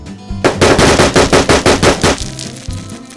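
An airgun fires a rapid 10-shot group at a target at least 20 yards away while a scope is sighted in. The shots come as a fast, loud run of about a dozen close, sharp reports over a couple of seconds, then fade into quiet.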